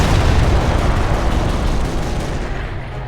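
Gunfire and explosions from the World War II strategy game Company of Heroes, with MG42 machine guns in play, form a dense, loud, continuous barrage that fades slightly toward the end, with no voices.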